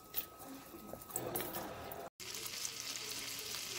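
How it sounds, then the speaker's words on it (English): Butter sizzling and toasting in a pot before scallops go in, a soft steady crackle with light clatter, briefly cut off by a short gap of silence midway. "I got my butter in my pot, getting nice and toasty."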